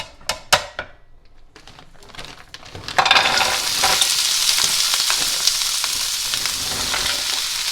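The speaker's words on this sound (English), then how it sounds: "we're just going to stir this around, you guys, until it's all cooked up" Food in teriyaki sauce stirred in a pan, a few sharp utensil taps at first, then a loud steady frying sizzle that rises suddenly and holds, with light stirring scrapes.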